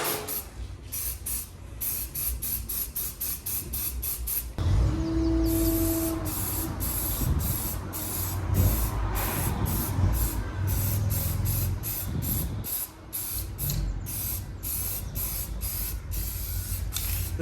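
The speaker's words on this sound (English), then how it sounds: "I could actually put a wee bit of aerosol primer onto the wheels" Aerosol primer sprays onto classic Ford wheels in a long run of short hissing bursts with brief gaps between them, close and steady, with a longer continuous spray in the middle.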